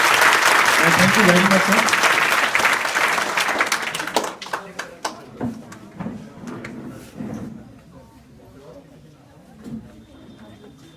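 Loud applause from a crowd of students for a teacher at a school event at a girls' inter college, sustained for about four seconds and then fading into scattered claps and a few thuds as a voice speaks.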